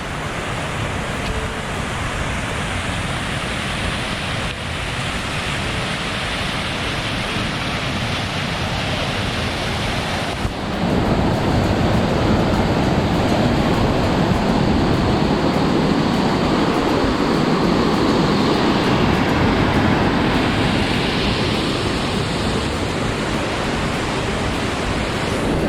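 Maple Creek on the Wonderland Trail at Mount Rainier rushes past in a loud, close, unbroken roar of flowing water that holds steady throughout, with no voices.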